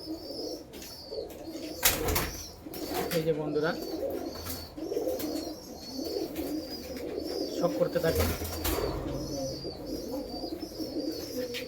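Male loft pigeons coo in overlapping low rumbles while someone talks over them, with sharp knocks and a brief wing flutter around the birds.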